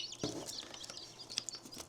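Newly hatching baby chicks on a farm give a quick run of high, thin peeps and chirps, close and fairly soft with no talking.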